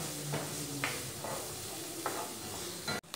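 Lean bacon frying in a pan with no added oil, a steady close sizzle with a few scraping stirs and brief clatters over it, no voices.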